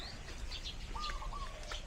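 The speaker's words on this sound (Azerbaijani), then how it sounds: "Hiss edirsinizsə, quşların səsi, təbiət." Birds chirp and call in a local residential neighbourhood in Bali, with short, clear warbling notes over a steady outdoor background hum. No one speaks.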